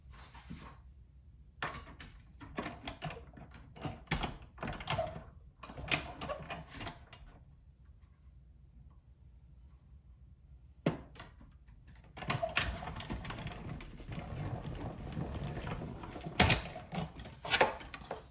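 A die-cutting machine cuts a paper daisy layer for a handmade card, giving a series of close, clattering mechanical clicks and thumps in bursts, separated by quiet pauses.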